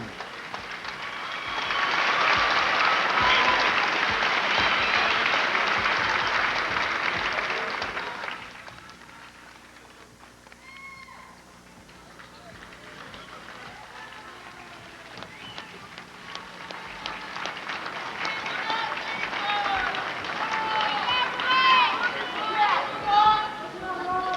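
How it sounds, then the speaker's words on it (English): Crowd applause for a 1998 state championship all-tournament boys' basketball team, a loud burst of clapping for several seconds that fades into quieter crowd murmur, with a few scattered claps and voices returning later. "Ladies and gentlemen, give them a round of applause."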